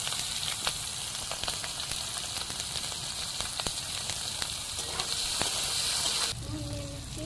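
Raw onion and green chili hitting hot oil in a Bengali-style fish curry pan, giving a steady, close sizzle and frying hiss throughout, with light clatter and a brief change near the end.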